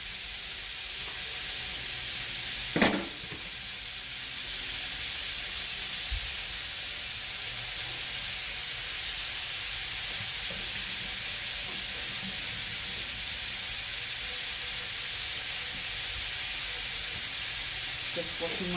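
Minced meat fries in a pan with a steady, broad sizzle that runs throughout, with one sharp clatter near the start and a few soft bumps.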